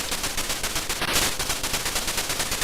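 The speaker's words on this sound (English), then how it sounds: "Oh, we've got some nice sound effects going on here. Can hold the fire button down" Rapid, evenly spaced bursts of gunfire from the ZX Spectrum game Line of Fire, a harsh buzzy rattle repeating steadily throughout, with a brief bright blip midway.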